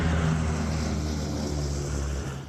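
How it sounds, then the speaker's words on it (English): A 1944 WWII B-17 bomber landing at Plattsburgh, its four piston engines giving a loud, steady low drone that holds throughout and eases slightly at the end. "This B-17 bomber from 1944 landed in Plattsburgh Monday afternoon."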